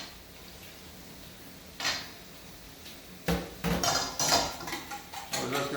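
Two eggs are beaten for a chicken stuffing in a dish, heard as a quiet opening followed by bursts of clinking utensil strikes against the bowl that grow more frequent and rhythmic.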